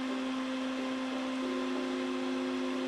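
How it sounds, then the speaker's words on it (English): A stepper motor runs on an encoder tester with a steady, sustained electric whine and a few shifting tonal hums, close and continuous with no pauses. "we can speed and slow down the stepper motor"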